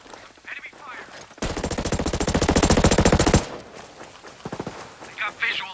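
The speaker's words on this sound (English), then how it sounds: "I'm taking rounds. Enemy fire." Sustained rapid automatic gunfire from the tactical shooter Ghost Recon Breakpoint, a loud dense burst lasting about two seconds, with quieter game sounds and voices before and after.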